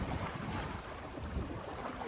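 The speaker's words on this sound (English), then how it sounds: "We just went up this big wave and down it" A sailboat rises up and drops down a big ocean wave, with steady rushing water and wind buffeting the microphone throughout, loud and close, no talking.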